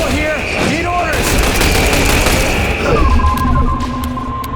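Loud, dense gunfire and explosions from The Bureau: XCOM Declassified battle on Xbox Series X, continuous bursts with booming impacts and a rising whine, with combat voices shouting over the din.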